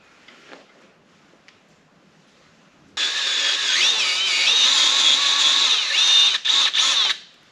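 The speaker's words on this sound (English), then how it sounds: "We gotta ream this out" A power tool reams out a part from a John Deere planter in a shed, starting abruptly after quiet and grinding steadily with a wavering high whine for about four seconds, with brief dips near the end before stopping.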